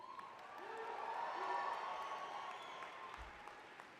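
A graduating class applauds at a university convocation, giving a sustained round of clapping from a crowd that rises and then eases off over a few seconds, fairly distant and soft in a large hall.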